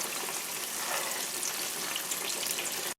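Gravy thickened with flour and garlic salt being stirred in a pan for smothered pork chops, giving a steady close bubbling sizzle with soft scraping throughout, no talk.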